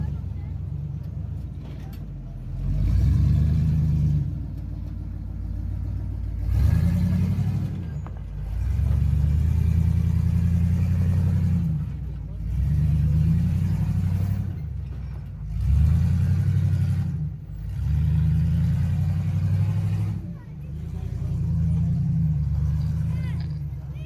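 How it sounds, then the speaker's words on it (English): A Dodge Durango crawls down a steep drop on an off-road trail, its engine rumbling in repeated bursts that swell and fade every few seconds at moderate loudness, with people talking in the background. "Finally, Steve's Durango coming down the drop."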